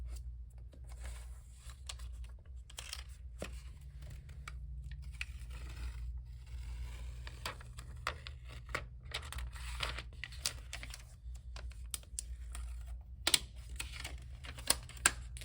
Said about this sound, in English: we're just going to peel off this piece of paper